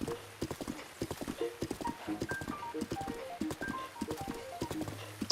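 Hooves clip-clop steadily and close by as a horse travels in Zelda: Breath of the Wild, the footfalls in an even rhythm, with a short whinny among them.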